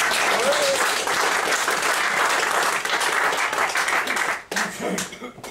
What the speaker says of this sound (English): Can we have a round of applause for Donna?